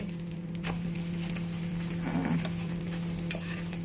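Paratha frying in ghee in a pan gives a steady, close sizzle, with scraping stir noises and light utensil taps running through it and no talking.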